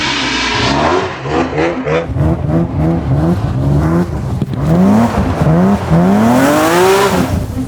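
A roughly 1000-horsepower BMW engine low on fuel revs repeatedly up close, rising and falling in pitch with loud surging bursts and climbing whines toward the end.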